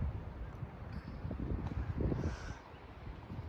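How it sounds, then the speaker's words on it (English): Wind lingering after a storm, gusting faintly against the microphone as a low, uneven rumble and rustle, with no clear talk. "It's still so windy."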